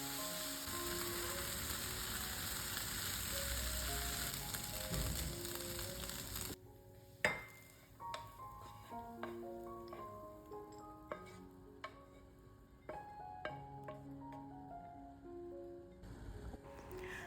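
Peanut coconut rice is sautéed in a pan, with a steady sizzle at first, then sparse scraping and clinking stir strokes from a spoon against the pan, close and fairly quiet, with no talk.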